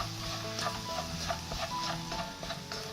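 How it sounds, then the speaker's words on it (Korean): Steady sizzling and crackling of seaweed stems stir-frying in a pan with oil, close and fairly loud, with light scraping and clicking as they are stirred. "미역도 이제 굽는 거예요."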